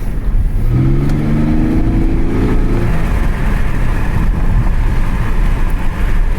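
An Infiniti G37 fitted with a cold air intake revs up loud and close, its engine note climbing in a rising sweep before settling back into a steady rumble.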